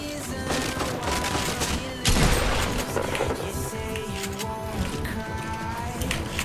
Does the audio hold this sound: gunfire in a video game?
yes